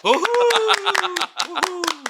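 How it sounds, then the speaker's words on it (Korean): Clapping in celebration of a goal scored by Lee Kang-in, sharp hand claps ringing out steadily over about two seconds while someone speaks loudly and excitedly on top of them. "박수!"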